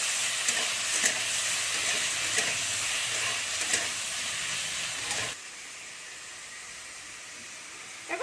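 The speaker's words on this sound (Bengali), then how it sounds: "এতে হালকা একটু নুন দিয়ে দিচ্ছি দিয়ে টমেটোগুলোকে আমি ভালো করে নেড়ে নেবো" Green tomatoes fry in a pan with a loud, steady sizzle and hiss, marked by several scraping stirs; partway through the sizzle drops abruptly to a quieter, softer hiss.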